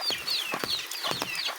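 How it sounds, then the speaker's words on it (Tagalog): Hungry chickens cluck repeatedly and fairly close by. Short, rapid, chattering calls overlap in a busy, uneven rhythm, with no talking. "Yan ang ating mga manok, hindi natin napakain kagabi yan."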